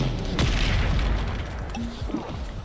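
Depulso spell cast in the video game Hogwarts Legacy, a single loud, deep booming burst at the start that rumbles and fades over the next couple of seconds with faint debris-like noise after.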